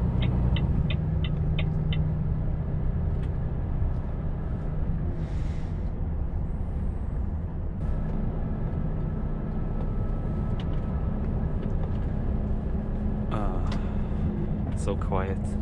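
A Volvo FH460 LNG biogas semitrailer truck heard from inside the cab while driving, a low, steady and quiet engine drone with road rumble, a few faint clicks and brief muffled sounds on top.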